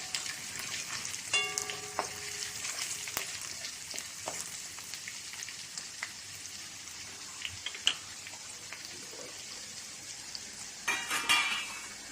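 Spices with a pinch of asafoetida roasting in a pan for tomato rice, a soft continuous frying hiss with a few faint clinks and crackles, quiet and steady with no voices.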